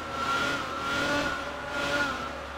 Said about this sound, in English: This Ferrari is so loud, man. This Ferrari is extremely loud.